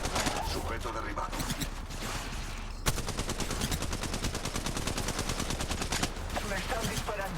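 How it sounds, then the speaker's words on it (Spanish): Rapid automatic gunfire and bursts of shots from an online multiplayer shooter, loud and dense throughout with brief pauses, set against a steady game soundscape and occasional voice lines. "Me están disparando."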